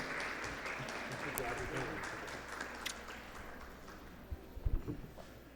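An audience at a literary event gives welcome applause for the guests, a moderate wash of clapping that slowly fades toward the end, with a few closer claps and faint murmuring.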